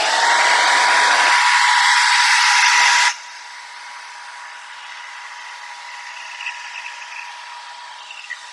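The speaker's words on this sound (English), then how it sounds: "I'm gonna use my blow dryer" A blow dryer roars loudly over drying acrylic paint, its pitch shifting partway through before it cuts off abruptly, leaving a low hum and small scattered handling sounds.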